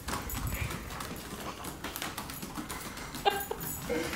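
A husky wearing dog boots clacks unevenly across a wood floor, quick hard clacks like small hooves, fairly faint, with a short squeak near the end.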